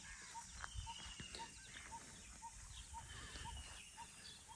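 Birds in Konkan countryside farmland, a faint, regular repeating call pulsing about twice a second over soft scattered chirps and a low outdoor background.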